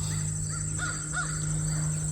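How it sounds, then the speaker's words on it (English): Crow calls heard outdoors, several short caws spaced across a couple of seconds, moderately distant over a steady background hum. "we're hearing communications that sound like crow calls"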